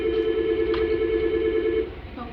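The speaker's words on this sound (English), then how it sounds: "they're just gonna let the phone ring and not answer the phone" An unanswered office telephone at a county health department rings, a steady electronic tone held for nearly two seconds that then stops, leaving faint room noise.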